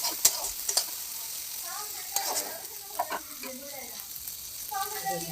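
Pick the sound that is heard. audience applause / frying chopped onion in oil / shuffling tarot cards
frying chopped onion in oil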